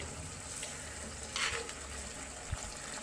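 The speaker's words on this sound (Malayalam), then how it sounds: "ഇനി നമുക്ക് ആ മീൻ കഷ്ണങ്ങൾ പതിയെ ഒന്ന് മറച്ചിട്ട് കൊടുക്കാവേ" Fish pieces frying in oil are turned over, with a soft steady sizzle, a brief rise near the middle, and a light knock near the end.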